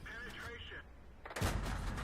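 Gunfire in a video game as a scout stops to shoot at a fleeing enemy, with a loud burst of shots arriving partway through after a quieter stretch of game ambience and background sound.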